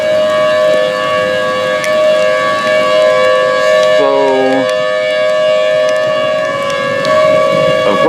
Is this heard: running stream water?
no